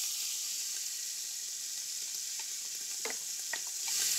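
Pancetta and onions fry in a pan with a steady, dense sizzle throughout, joined by a few faint stirring clicks toward the end.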